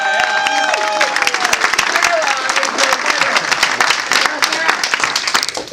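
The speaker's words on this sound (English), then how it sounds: "Will you please give our amazing contestants a huge round of applause?" Studio audience applause and cheering at a Rotary club morning game show, dense clapping sustained throughout with excited voices and shouts mixed in over it.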